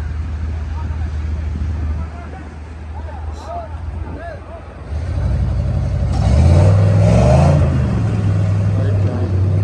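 A car stuck in the sand on a beach revs its engine loudly, the engine note rising and straining in the second half over wind noise and people talking and shouting nearby.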